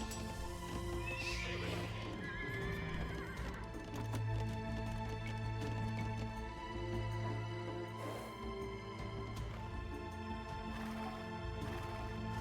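Horses neigh and whinny in the real-time strategy game Age of Empires 2 amid Hun horse archer units, with clip-clop hooves and game music running steadily underneath, several whinnies rising over a dense, continuous battle mix.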